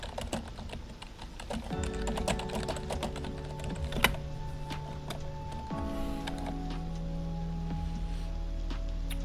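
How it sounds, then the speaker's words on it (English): Fast, forceful typing on a computer keyboard, a dense continuous patter of keystrokes with one sharper hard key strike, over a steady background hum. "Rage typing."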